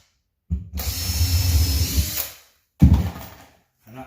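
A power drill bores pilot holes into timber during an electrical upgrade in an empty property, in two bursts: a long whirring run under load, then a shorter run after a pause, close and loud.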